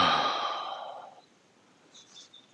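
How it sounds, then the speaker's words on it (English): A person who is out of breath after walking uphill outdoors lets out a heavy exhale that fades away, followed by quieter breaths. The breathing is near and soft, and a faint high chirp sounds briefly in the background. "As you can hear, I'm out of breath now."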